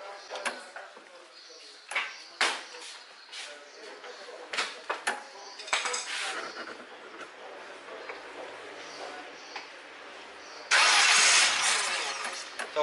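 A car engine turns over with a few sputtering attempts, then catches and runs, ending in a loud roaring rev near the end, after carburetor adjustment.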